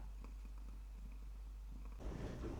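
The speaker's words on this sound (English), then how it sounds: "Big Rat, she's purring." A soft, steady low purr runs continuously from a cat nearby, then a brief rustling burst at the end.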